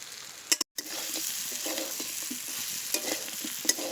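Chicken pieces and potatoes frying in oil in a pan, a steady close sizzle with occasional stirring scrapes and clinks, briefly cut by a moment of silence.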